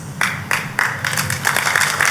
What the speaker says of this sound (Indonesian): Jangan tepuk tangan dulu, Pak.